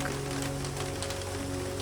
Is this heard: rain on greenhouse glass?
yes